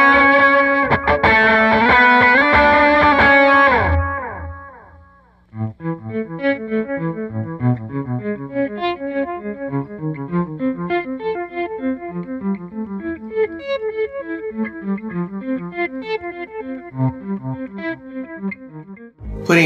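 Electric guitar with a volume pedal placed before a delay: a dense chord swells and fades away, followed by picked notes trailed by echoing delay repeats.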